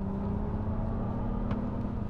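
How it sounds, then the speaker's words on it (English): Synthetic Silver Waves drive sound from a Mercedes EQE SUV electric car, a steady droning hum with a low gargly rumble that builds like a combustion engine, continuous and fairly close throughout. "the default one, which is Silver Waves. Oh, I quite like that. That sounds very much like a combustion car, but still electric. A nice kind of gargly power build-up."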